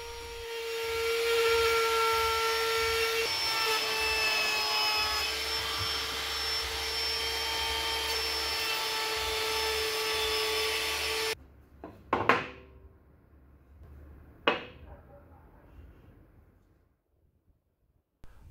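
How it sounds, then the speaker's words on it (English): Trim router fitted with a roundover bit rounding over wooden edges, giving a loud, sustained high-pitched whine for about eleven seconds. The router then stops and a few sharp knocks and handling sounds follow in near quiet. "I rounded over all of the edges with that roundover bit on the trim router"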